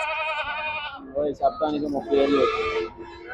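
A goat lets out a long, wavering bleat at a goat and sheep market, followed by people talking nearby, then another drawn-out bleat rises over the voices.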